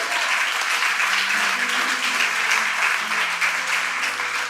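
A church congregation applauds steadily and loudly, a thick continuous wash of clapping with faint organ-like tones underneath.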